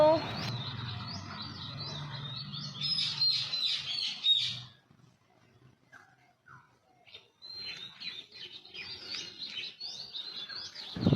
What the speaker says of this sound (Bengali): শুনে নাও চারিদিকে কি সুন্দর পাখির গান